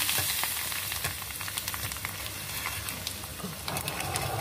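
Hot oil tempering with chillies and neem-style leaves for brinjal bajji gives a dense, even close-up sizzle with fine crackling pops that stays steady for several seconds, with no voices.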